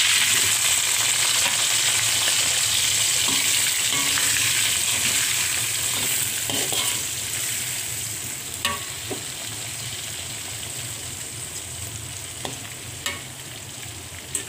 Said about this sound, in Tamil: பெரிய வெங்காயம் 3/4 வாசி வதங்கணுங்க